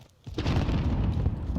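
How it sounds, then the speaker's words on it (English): A distant explosion in the video game Warzone, a sudden rumbling low boom that rises from near silence and rolls on as a sustained heavy wash with scattered crackle. "And I hear an explosion ahead"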